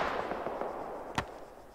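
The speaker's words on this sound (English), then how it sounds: "Rocket, rocket." A rocket launched in the military combat game Arma 3, a single sharp whooshing burst near the middle, heard against a steady noisy battlefield background with faint thuds earlier.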